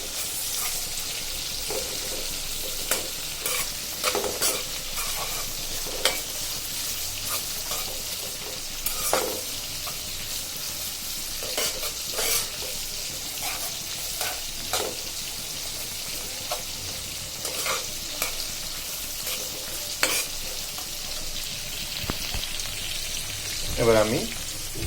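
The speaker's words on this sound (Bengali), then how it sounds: "এদিকে আমি আরেকটা চুলায় ভাজিটা করার জন্য পেঁয়াজ, রসুন আর কাঁচামরিচ তেলে ভেজে নিচ্ছি।" Chopped onion, garlic and green chili fry in hot oil on a stove in a Bangladeshi home kitchen, giving a steady close sizzle broken by frequent scraping stirs, with a voice faintly heard now and then.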